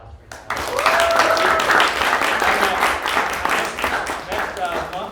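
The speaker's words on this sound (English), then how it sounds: "another round of applause for that" An audience at a tech demo night gives a sustained burst of dense, loud applause that starts abruptly and carries on throughout, with voices and cheering mixed into the clapping.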